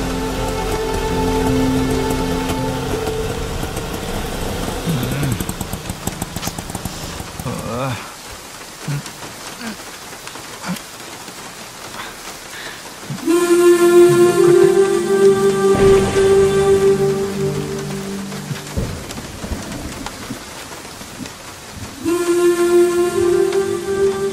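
Rain pours down steadily in a film scene, a dense hiss that swells louder in a couple of stretches, with music playing underneath.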